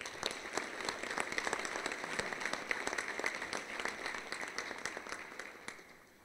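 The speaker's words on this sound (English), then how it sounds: "let's give the athletic department and the football program a round of applause for that success" Applause from a large crowd at a football championship banquet, a dense steady clapping that rises and then slowly fades away toward the end.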